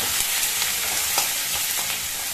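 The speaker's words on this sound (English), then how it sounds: "I'll add the ginger and curry leaf." Ginger and curry leaves frying in hot oil give a loud, close, continuous crackling sizzle with a few sharper pops, heard alone without talk.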